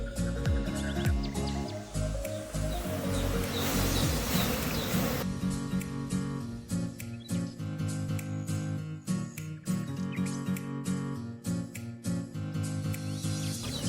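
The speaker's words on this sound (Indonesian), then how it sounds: "saya di dekat koloni lebah" A honey bee colony buzzes densely and steadily close by, layered with clicks and rustles, continuous throughout with no voices.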